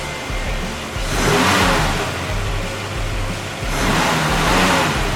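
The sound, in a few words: Ford Falcon '65 car engine revving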